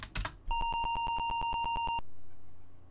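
Rapid electronic beeps from the Apple II game Might & Magic, a quick regular train of about a dozen identical tones lasting around a second and a half, preceded by a couple of dull thumps and then fading hum.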